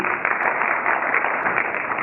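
A dense, steady wash of audience applause fills the room at an expo event, many hands clapping continuously and loudly for the full two seconds.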